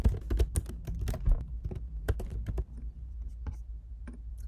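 Rapid clicks of a computer keyboard as a username is typed into a login form, a dense burst of keystrokes with short pauses, close and fairly loud with a low background hum.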